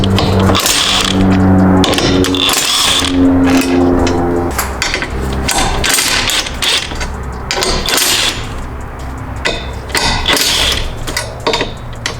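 Rapid mechanical clicking and clattering from a tool loosening the 13 mm bolts on the strut brace of a BMW G80 M3, loud and close over a steady hum.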